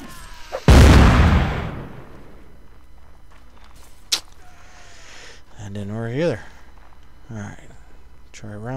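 A cannon fires in the Napoleonic-era battle game Mount and Blade Napoleonic Wars: one loud, close boom with a decaying rumble, followed later by a sharper crack, while someone talks over it.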